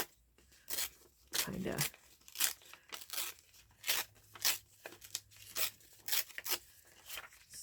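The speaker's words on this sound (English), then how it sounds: "Why don't I tear that in half?" Something torn in half by hand during a grunge-style craft project, heard as short, crisp ripping bursts spread through the stretch, mixed with quiet talking.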